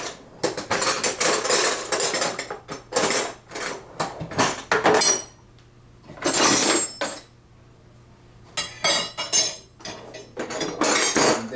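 Metal wrenches clink and clatter as they are sorted into a Milwaukee Packout drawer, in repeated close, bright bursts of jangling separated by short pauses, with no talk.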